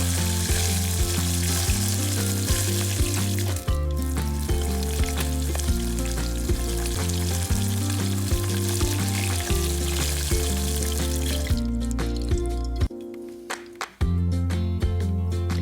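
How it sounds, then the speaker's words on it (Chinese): Fish pieces, flatfish or tilapia, deep fry in hot oil with a steady, loud sizzle under background music, which cuts out briefly near the end. "当油温达到6至7成热后，将鱼块下锅"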